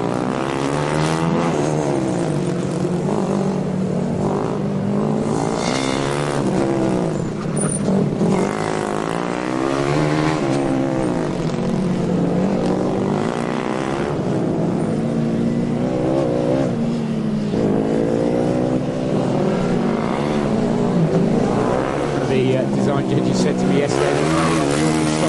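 KTH Stockholm's Formula Student race car pulls away on an endurance course, its engine note rising and falling through repeated revs over a long stretch while a commentator talks throughout.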